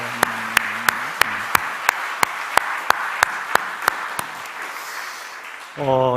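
A church congregation at an early-morning service applauds for its youth group, a diffuse wash of clapping cut by sharp, evenly spaced claps on a steady beat, with a voice speaking at the start and end.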